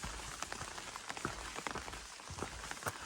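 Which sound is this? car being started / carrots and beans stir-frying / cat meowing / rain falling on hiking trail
rain falling on hiking trail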